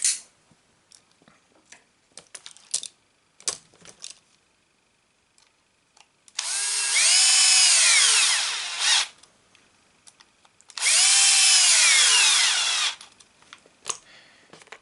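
A power screwdriver drives 3x14 screws into a Pro-Line Pro Fusion SC 4x4 front-end kit, giving two close, loud whirring bursts of a few seconds each, with light clicks and handling noises before and between them.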